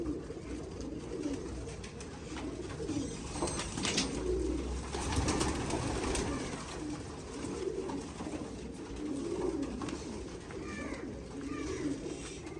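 Pigeons coo softly and repeatedly nearby, low rolling calls continuing throughout over quiet background ambience.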